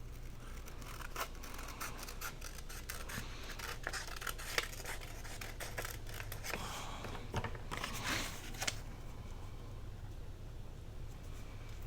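Scissors cutting the white margin off a magazine page for a journal pocket, quiet snipping and paper rustling, close and soft over a low steady hum.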